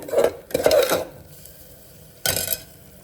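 Soaked soya chunks drop into a pan with clattering metal bursts of utensil against cookware, two quick clanks early on and another after a short pause, close and fairly loud.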